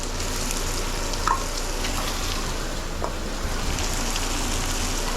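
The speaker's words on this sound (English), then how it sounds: "now I'm going to add my onions in there." One small yellow onion frying in a pan for bacon and egg fried rice, a steady broadband sizzle with a couple of faint pops, close and even throughout with no talking.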